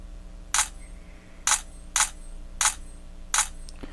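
Motorola Droid Razr M phone camera shutter: five sharp, close synthetic shutter clicks at irregular intervals over a faint steady background hum.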